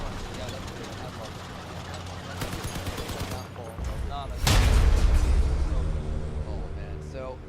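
Shotgun fire in the vehicle combat game Crossout: one heavy, booming blast with a long rumbling tail rises over steady engine and battle noise, while people talk throughout.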